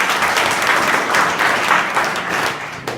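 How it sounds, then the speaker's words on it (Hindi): Students in an Inter College classroom clap for a classmate, a steady, dense burst of applause lasting about three seconds before tapering slightly at the end. "अंतरा के लिए ताली तो बजाओ"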